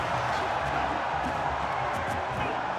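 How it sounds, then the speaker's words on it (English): A crowd cheers at a Smash Ultimate tournament, a continuous roar of many voices heard from a distance with scattered whoops, under commentary. "Crowd popping off in the background."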